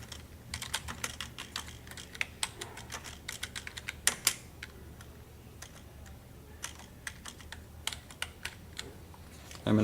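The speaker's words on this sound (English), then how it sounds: "I'm going to type in here the title of my movie." Keys clatter on a computer keyboard as a movie title is typed in, a close run of quick, uneven clicks with short pauses and no talk.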